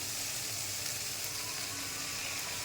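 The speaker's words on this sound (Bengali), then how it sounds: "দেখুন পেঁয়াজ কি সুন্দর ভাজা ভাজা হয়ে গেছে" Onions frying in a pan for an egg bhuna dish, a soft, steady sizzle heard close but faint throughout.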